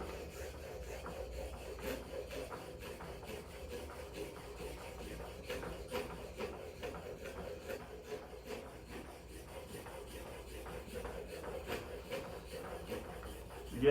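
Plane blade held in a honing jig is rubbed steadily on a fairly high grit sharpening stone, giving a continuous soft scraping texture at close range with no talk.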